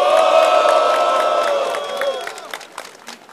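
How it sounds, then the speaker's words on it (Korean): A crowd at a rally against media suppression erupts in loud cheering and applause, voices and clapping blending into a sustained roar that gradually fades over a few seconds. "이 언론인들에게 여러분 뜨거운 격려의 박수를 보내주십시오."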